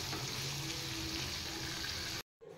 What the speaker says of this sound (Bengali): তাহলে মাংসের জন্য আলু আর পেঁপে ভেজে নিয়েছি